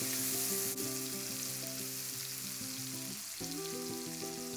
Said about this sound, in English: Stirring the onions, you can cook them for about 3 minutes until it turns golden brown